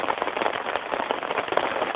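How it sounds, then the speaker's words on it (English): Rain falls steadily outside, a dense, even patter close by. It sounds muffled, with no talk over it. "when does this rain end?"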